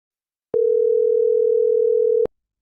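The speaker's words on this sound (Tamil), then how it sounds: "நீங்கள் டயல் செய்த எண் தற்போது பிஸியாக உள்ளது." After dialing, a telephone line gives a single steady tone that holds for under two seconds, clean and alone, then cuts off abruptly.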